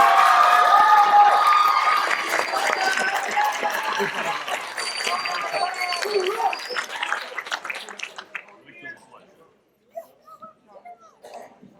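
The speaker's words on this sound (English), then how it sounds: "how about a round of applause for the new senior staff" A crowd at a high school JROTC awards ceremony claps and cheers loudly, the applause gradually thinning out and dying away into a few scattered sounds.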